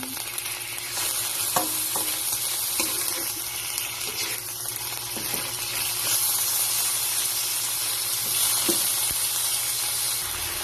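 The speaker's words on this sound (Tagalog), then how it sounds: "Ihalo lang po natin." Chicken and chicken liver frying in a pan for chopsuey, a loud continuous sizzle with occasional soft stirring scrapes and clinks, close and steady throughout.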